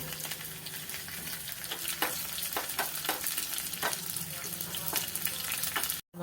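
Mustard seeds, onion and chili sizzle and crackle in hot oil for a coconut-free chammanthi curry, a steady close frying hiss with scattered sharp pops throughout and no talking.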